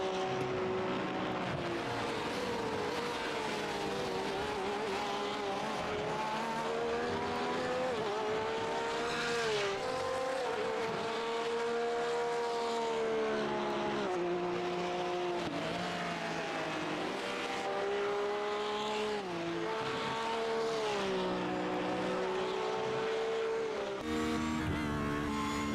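Onboard engine note of a race car in a Le Mans racing video game, a loud continuous high-revving whine that climbs and drops repeatedly through gear changes across the whole stretch, with no voices over it.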